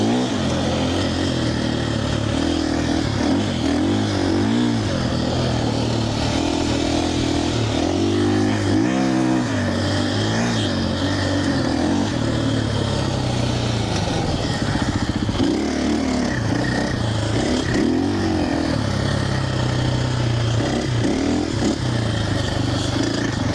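A 2025 KTM Champion Edition dirt bike ridden through soft sand, its engine droning loud and close throughout, rising and falling as the rider revs and shifts.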